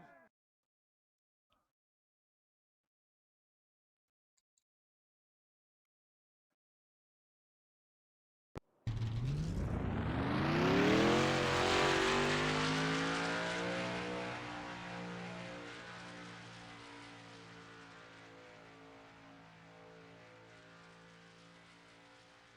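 Racing truck engines in a video game fire up at Auto Club Speedway after near silence, rising into a loud sustained roar with revving harmonics that slowly fade as the trucks roll off.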